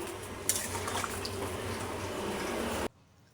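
Water boiling in a pot of chicken curry, a steady close bubbling and rolling simmer with a light clink near the start, running continuously and then cutting off abruptly into near silence.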